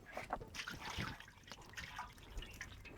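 Cooking oil poured into a pot for chicken biryani, heard as a steady, close liquid trickle and dribble running continuously throughout.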